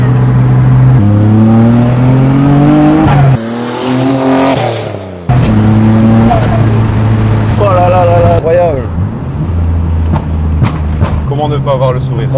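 A Nissan R32 GT-R engine revs and accelerates hard through several gear changes, loud and close, with brief pauses between pulls and talk over it.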